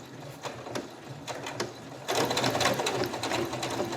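A sewing machine stitches fabric under its presser foot, starting with a few slow, separate clicking stitches that build into a faster, denser mechanical whir as the pedal is pressed harder.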